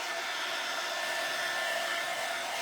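Hair dryer blowing continuously on a Christmas tree craft made from thrifted belts, a loud, steady, close-up whoosh that holds throughout with no talking.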